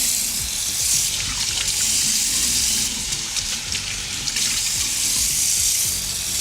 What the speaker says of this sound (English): I'm really washing my face for you guys.